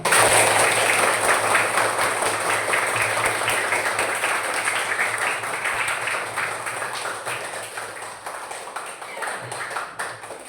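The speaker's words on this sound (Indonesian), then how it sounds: "Oke, boleh tepuk tangannya" A classroom of children claps together, a dense, fast patter of small hands that starts loud and slowly thins out over about ten seconds.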